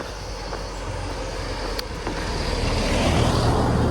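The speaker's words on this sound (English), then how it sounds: "Sorry, car." A car passes on a narrow road near Lamorna on the Cornish coast path, its broad rumble swelling steadily as it draws nearer over about four seconds, with no talking.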